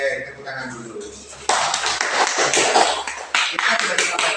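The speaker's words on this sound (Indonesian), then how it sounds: "Oke, tepuk tangan dulu." A classroom of students claps together on a teacher's cue, a dense burst of many hands that starts suddenly and holds steady and loud for a few seconds, with faint talk before it begins.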